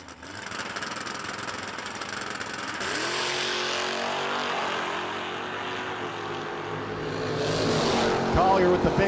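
Drag race cars, among them the Demon, roar at a no-delay nationals meet, engines rising in pitch as they accelerate, loud and close beneath an announcer's commentary.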